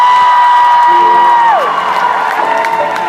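Audience cheering and applause for a band at the Fox Theatre in Oakland, a loud, steady crowd roar with sustained musical tones ringing over it.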